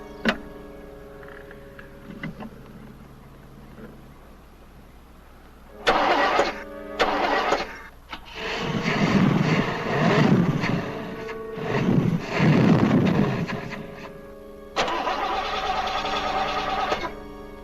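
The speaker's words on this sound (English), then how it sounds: "I can't fix the car with you starting it." A car engine cranks repeatedly in short grinding bursts, catches and revs roughly, then settles into a steady mechanical run, loud and close.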